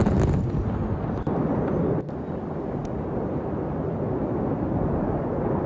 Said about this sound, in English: Rumble is the fireworks, I believe.